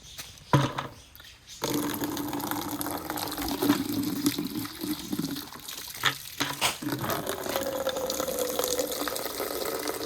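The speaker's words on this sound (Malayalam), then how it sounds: "നമുക്ക് പോത്തിന് വെള്ളം കൊടുക്കണ്ട ബക്കറ്റൊക്കെ ഒന്ന് ക്ലീൻ ആക്കിയിട്ട് വെള്ളം പിന്നെ അവിടെ നിന്ന് എടുത്താൽ മതി" Water running into a bucket to give a buffalo a drink, a steady close splashing stream after a few brief knocks at the start, with no talking.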